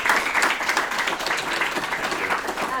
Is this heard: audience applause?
yes